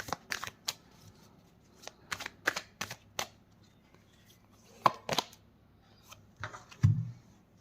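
Tarot cards being shuffled, giving a run of crisp, brisk riffling snaps and flicks in uneven bursts, with a soft thump near the end; no talking.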